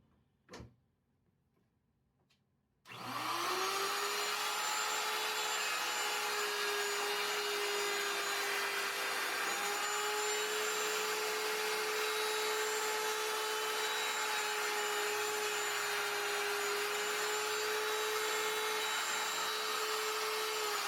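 A shop vacuum starts abruptly after a near-silent moment and runs steadily at close range with a whining tone, sucking wood chips out of a freshly cut mortise for floating tenons in chair parts.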